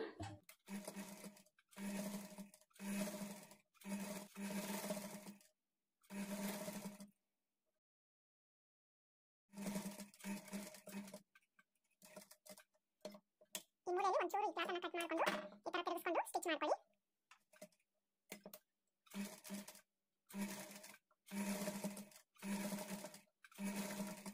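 A sewing machine stitches thread piping onto a child's lehenga blouse in short, close runs of rapid needle chatter separated by silent pauses, with a voice speaking briefly partway through.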